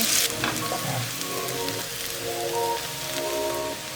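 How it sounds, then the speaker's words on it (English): Onions fry for pilau in a hot pan, a steady close sizzle and crackle like rain that keeps on without a break, with a brief louder burst at the start. "Fry them until they turn brown."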